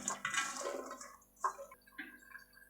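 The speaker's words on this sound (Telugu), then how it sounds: "ఈ చిక్కుడుకాయలన్నింటినీ చక్కగా శుభ్రంగా కడుక్కోవాలండి" Cluster beans are washed in water, with splashing and swishing in short bursts close by, quiet between sloshes.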